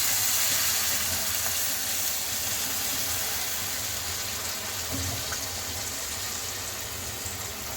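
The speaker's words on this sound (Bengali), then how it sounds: "এবার দিয়ে দিচ্ছি পাঁচ কাপ পানি" Five cups of water poured into a cooking pot with spiced meat for maqluba, a steady loud rushing and hissing pour that tapers slightly over several seconds, with no talk.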